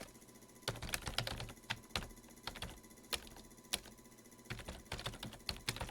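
Rapid, irregular clicking of keys on a computer keyboard, close and fairly quiet, with bursts of keystrokes and brief pauses over a low steady room hum.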